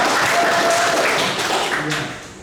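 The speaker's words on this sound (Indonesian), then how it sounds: "mari kita tepuk tangan untuk." A classroom of students applauding during a social studies lesson, continuous clapping that fades toward the end, with a faint tonal squeak and some voices mixed in.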